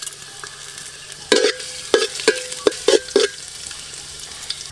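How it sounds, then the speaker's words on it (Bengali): Chopped ginger and garlic fry in white oil. A low, steady sizzle sits under a handful of sharp spatula scrapes and taps, close and alone. "আদা রসুন কুচি একটু ভালো করে ভাজা ভাজা করে নিয়েছি।"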